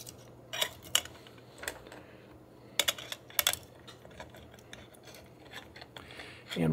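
A wad of tin foil is crumpled by hand to jam into the battery compartment of a Yashica Electro 35 rangefinder camera. It comes as quiet, scattered crinkly crackles and taps, close by, separated by short pauses.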